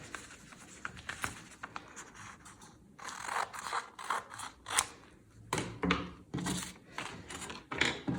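Scissors snip through material for an Easter craft in a series of irregular close cuts and rustles, growing louder and more frequent midway.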